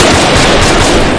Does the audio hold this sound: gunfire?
yes